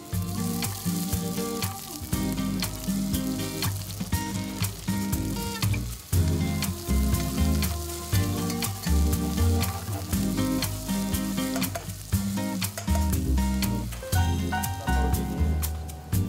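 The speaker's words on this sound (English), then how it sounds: "In another frying pan, fry the onions and brown them." Onions frying and browning in a pan on the stove give a loud, continuous sizzle, with frequent clattering stirs and scrapes in a rough rhythm throughout and no talking.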